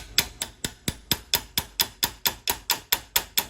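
A small hammer taps a metal auger shaft on a Cub Cadet/MTD snowblower in a steady, even rhythm, about fifteen sharp, ringing strikes, close by with no voices.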